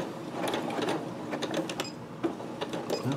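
Sewing machine stitching two long pieces of camo fabric together along one side for a camping hammock, a close, steady mechanical whir with rapid ticking needle strokes running throughout.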